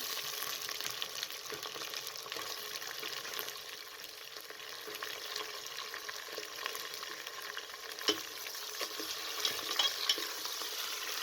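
Chicken sizzling and frying with whole garam masala and onions in a pan over medium flame for a chicken salan, a steady close crackle with frequent stirring scrapes throughout and no talk.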